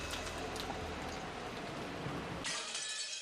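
In the Umineko video game, glass shatters in a bright, crashing burst that sprays tinkling fragments for about two seconds before cutting to a short, thin ringing tail.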